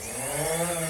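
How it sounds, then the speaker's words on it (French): A drone takes off to fly over a forest canopy, its rotors giving a steady, buzzing, harmonic whine that holds constant and close throughout. "C'est un drone qui vient de décoller pour survoler la canopée"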